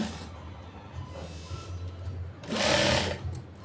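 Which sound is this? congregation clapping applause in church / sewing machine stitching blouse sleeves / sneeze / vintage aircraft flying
sewing machine stitching blouse sleeves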